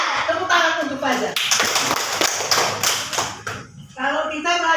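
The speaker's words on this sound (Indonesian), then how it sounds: "Tepuk tangan untuk Fajar" A classroom of students claps for a classmate in a brief burst of sharp, close hand claps, with voices chattering around and after the applause.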